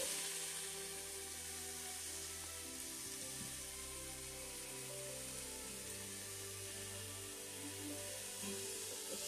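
Onion sautéing in a pan for kitchari gives a steady, soft sizzle that holds evenly throughout at moderate distance, with no talking.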